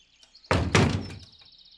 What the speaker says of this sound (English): She slammed the door loudly.